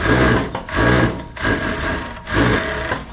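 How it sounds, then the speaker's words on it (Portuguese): An overlock sewing machine stitches fabric for a plus-size swimsuit, running loud and close in three quick bursts separated by short pauses. "E nós vamos passar o overlock."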